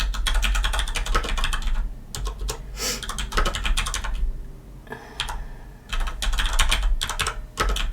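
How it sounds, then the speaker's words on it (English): Java code is typed on a computer keyboard in quick, close bursts of clicking keystrokes, separated by brief pauses and with no talking. "Hit enter again."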